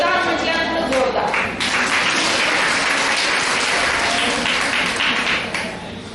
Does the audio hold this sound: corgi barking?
no